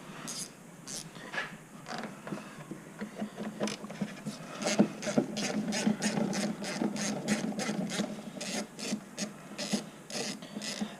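A ratchet wrench with a 10 mm socket clicks in rapid, repeated bursts while loosening bolts on a Chevy 4.3 engine in an S10 Sonoma, close up and fairly quiet, with brief pauses between strokes.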